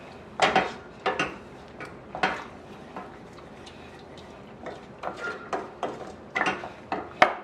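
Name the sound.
stirring guava BBQ sauce with chili sauce in a pot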